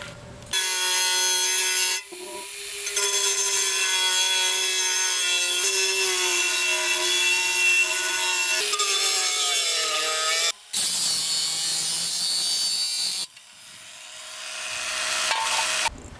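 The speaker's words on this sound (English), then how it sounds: "So I'm going to start to cut this hole out." Hand-cutting a hole in the metal of a DIY wood gas backpacking stove, a loud continuous rasping cut with a ringing harmonic whine, broken by brief pauses between strokes, close up.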